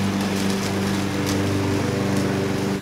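A lawn mower engine runs steadily close by, a continuous droning buzz with a strong low hum, heard alone without any talk.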